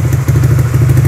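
Yamaha Supra GTR 150 motorcycle fitted with a Vyrus exhaust and dB killer, engine running in a steady, loud, throbbing low rumble with rapid pulsing, close up and with no voices.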